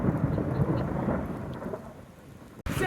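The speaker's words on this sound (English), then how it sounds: "the reason the rain hurt when it hit me is because it's hail" Hail and rain fall in a thunderstorm on Gozo, Malta, making a dense, steady patter close by over a low rumbling roar, with a brief dropout near the end.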